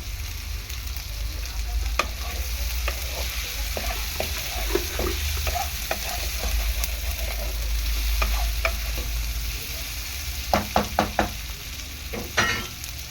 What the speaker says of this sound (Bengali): আলুটাকে ভালো করে কষিয়ে নেবো এরকমভাবে একখানি লবণ দিচ্ছি আমি